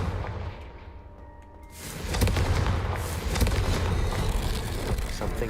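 A Confringo fire spell blast from the video game Hogwarts Legacy arrives as a sudden booming burst after a quieter moment, followed by sustained crackling, rumbling noise at moderate loudness.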